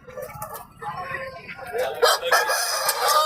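A rooster crows amid the bustle of a Monday livestock market in Kunnathur, where tall roosters are on sale; the crow rises loud and close against steady crowd noise and nearby chatter.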